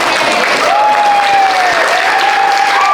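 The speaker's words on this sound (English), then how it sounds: "A round of applause to these three legends." Convention audience at a Spooky Empire 2023 horror panel for the Texas Chainsaw Massacre game applauding its guests, loud sustained clapping close by, with a whistle rising and falling above the crowd.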